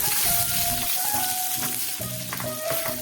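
Shallots and garlic sautéing in a pan, a steady close sizzle that continues through the whole short stretch with faint stirring underneath and no voice.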